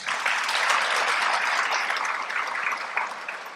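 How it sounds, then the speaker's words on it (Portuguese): Steady, full audience applause at a Spiritist congress talk, a dense wash of many hands clapping that holds at an even level throughout. "Os aplausos são para vocês."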